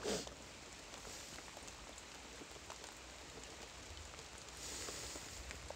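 Rain falls steadily while fishing from a kayak, a soft, continuous patter of drops on the water and surfaces around, fairly faint and even throughout with no talk.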